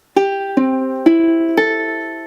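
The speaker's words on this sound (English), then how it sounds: "If you don't know how to tune it, it should sound like this." Four tuned ukulele strings are plucked one at a time at an even pace, each clear note ringing out and fading before the next.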